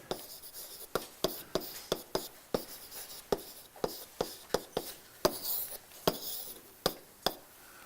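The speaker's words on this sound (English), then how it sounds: "Let me write it out." A pen or chalk writes out differential equations by hand: quick, crisp tapping strokes in an uneven rhythm, close and fairly quiet, with short pauses between bursts of marks.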